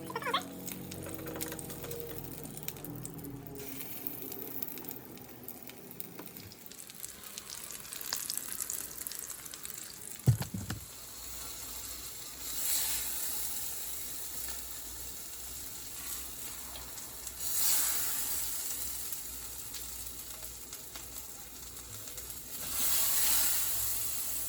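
Chile relleno dipped in egg batter frying in a pan, a steady broadband sizzle and hiss running throughout, with a sharp clatter near the middle and faint bubbling swells.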